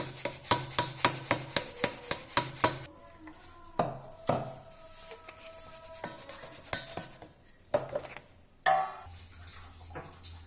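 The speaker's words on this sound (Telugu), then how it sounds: "మొత్తం ఇట్లా మిక్సీకి వేసుకొని జల్లడ పట్టుకునాలి" Ground roasted gram and sugar being sieved for besan laddu, a quick run of rhythmic rasping scrapes and taps on the sieve, then scattered rubbing and knocks with quiet gaps.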